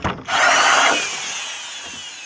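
A power drill with a tenon cutter whines as it bites into log wood, a short rough grinding burst that fades as the motor spins down.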